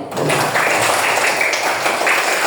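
A class of students claps for a classmate in a school lesson, a steady broad patter of applause filling the room for a couple of seconds, loud and close.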